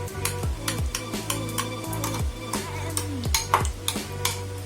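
Chopped onion is stirred into a bowl with pepper powder for KFC-style coleslaw, giving repeated soft scraping and clinking strokes of a spoon in a steady rhythm, close and fairly quiet, with no talking.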